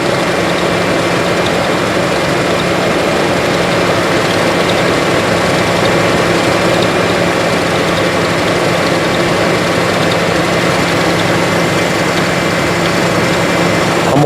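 Loud, close idling of a Mitsubishi Montero truck engine during an alternator test, an unbroken low rumble with a steady hum and faint rhythmic knock running evenly throughout, no speech.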